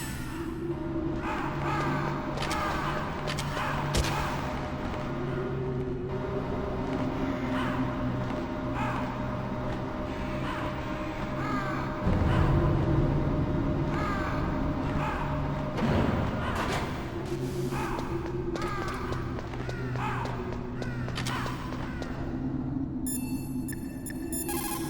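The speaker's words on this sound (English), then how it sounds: "What the hell are all these crows doing around here?" Crows cawing in the video game Metal Gear Solid, repeated harsh calls scattered over a steady ambient game drone and music, with occasional thuds, no voices.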